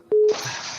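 A phone call on a live call-in program is cut off, leaving one short, loud disconnect beep followed by a soft line hiss.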